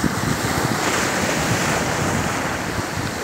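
Sea waves wash against a rocky beach on the Bình Thuận coast of Vietnam, making a steady, close roar of surf mixed with wind noise, with no voices.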